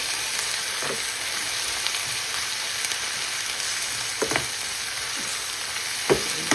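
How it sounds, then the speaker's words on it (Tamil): Ginger garlic paste sizzles steadily in a hot pan for a chicken curry, a constant broadband hiss with a few sharper spatter pops near the end, no voices. "இந்த டைமில் வந்து நான் இஞ்சி உள்ளி பேஸ்ட்டை வந்து போடுறேன். அதுவும் நல்ல வடிவாக அந்த பச்சை வாசனை போகும் வரைக்கும் நாங்கள் வந்து நல்ல வடிவாக வதக்கணும்"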